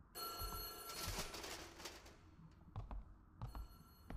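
A school telephone rings in the horror game White Day, a loud, harsh bell burst for about two seconds, followed by quieter knocks and thuds as the ringing cuts in again near the end.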